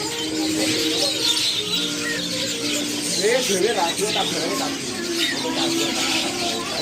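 Birds chirp and call amid the bustle of a busy bird market, with several short bright calls clustered midway and people talking over a steady crowd murmur.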